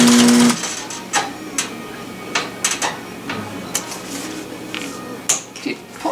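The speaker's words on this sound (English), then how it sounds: "do some back stitching." A sewing machine back stitches a tactical dump pouch in short, separate bursts of mechanical clatter and clicks, loud and close, with small pauses in between.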